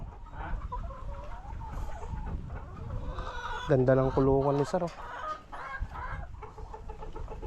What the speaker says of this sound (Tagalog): kumakasta na yung manok natin na roaster